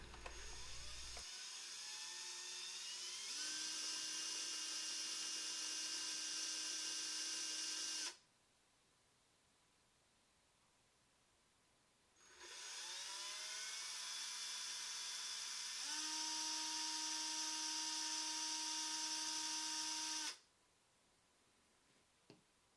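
A power drill with a 5.4mm bit whines steadily in two long bursts of about eight seconds each, its pitch shifting slightly as it bores into a wooden fishing lure, with a quiet pause between them.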